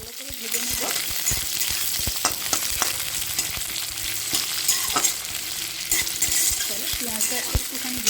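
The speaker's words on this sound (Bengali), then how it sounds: "পেঁয়াজটা সামান্য একটু ভালো করে ভেজে নেব।" Finely chopped onion fries in hot oil in a pan, a close, steady sizzle broken by frequent metal stirring clinks and scrapes.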